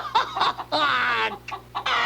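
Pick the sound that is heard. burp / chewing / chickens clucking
chickens clucking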